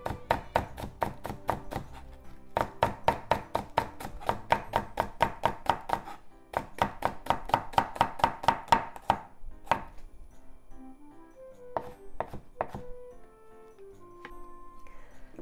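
Knife slicing Japanese leek on a cutting board: rapid, even, close chopping strikes in two long runs, then a few scattered taps.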